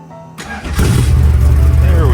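A Buick T Type cranks briefly and fires up, settling into a loud, steady idle close to the microphone right after the starter engages.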